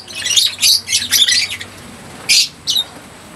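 A Lutino Opaline parrot gives a string of loud, harsh squawks close by, then two more sharp calls after a short pause.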